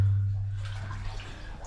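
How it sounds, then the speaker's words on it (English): Water bubbling and gurgling inside an old mine shaft in a New Zealand gold-mining valley, heavily echoing and fairly close, starting over a low steady hum that drops away as the burbling continues. "Very echoey bubbles there."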